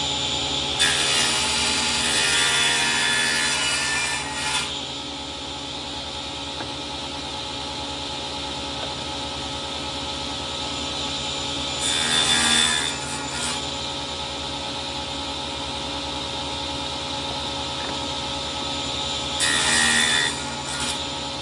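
Saw cutting wooden workpieces to identical lengths for a floating coffee table, three separate bursts of harsh rasping cuts, the first lasting several seconds and the later two short, with a steady hum of background between them.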